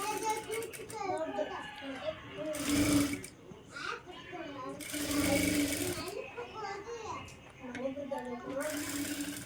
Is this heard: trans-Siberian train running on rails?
no